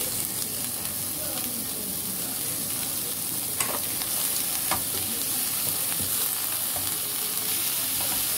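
Jackfruit ginataan sizzles and bubbles in a cooking pot while it is stirred, a steady close frying hiss broken by a few sharp scraping clicks.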